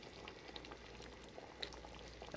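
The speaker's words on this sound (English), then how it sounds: "I'm going to just add on boiling water to this." Boiling water goes into a tomato pasta sauce in a pot, making a soft, continuous bubbling simmer with faint sizzling, heard fairly quietly with no voices.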